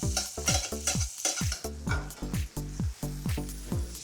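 Mushrooms frying in a generous amount of butter with garlic and fresh thyme, the pan sizzling steadily while a utensil stirs and scrapes in a quick repeated rhythm, close and fairly loud.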